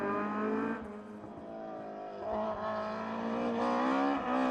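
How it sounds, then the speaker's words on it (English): A Ford Escort RS 1600 rally car drives a stage of an Irish lakes rally, its engine note climbing steadily as it holds a gear and revs hard, loud and close throughout with no pauses. "Slotting into fourth, Mark Falvey and James O'Brien in their Ford Escort RS 1600."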